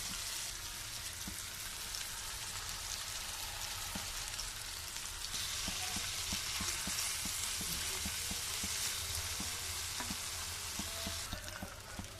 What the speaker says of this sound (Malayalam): ഞാനിപ്പോൾ ഇതിങ്ങനെ വറുത്തെടുക്കാം.